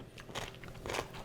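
Crunchy bites into a Japanese cucumber sunomono salad, a few crisp close-up crunches and chewing sounds in quick succession, with no talk over them.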